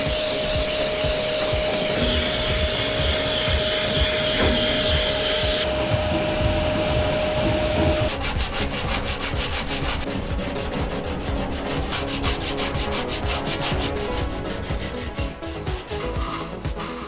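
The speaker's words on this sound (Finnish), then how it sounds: "nyt aletaan sitten hioa ne tasaisiksi" Dried epoxy filler on an Audi 100 LS C1 body being sanded smooth, a steady loud abrasive rubbing with a droning power-tool hum throughout, close up and uninterrupted.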